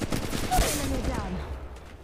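Rapid bursts of automatic gunfire from a ranked Apex Legends Mobile match in Kings Canyon, a dense crackling fusillade filling the moment with a faint voice layered underneath.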